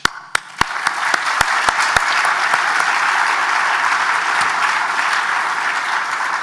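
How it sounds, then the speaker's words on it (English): Audience applause at an international summit on concussions: a few sharp individual claps at the start quickly swell into steady, sustained applause from a large crowd that continues evenly to the end. "One more time, round of applause for these two gentlemen, Dr. Tator, Ken Dryden, and Dr. Hoshizaki."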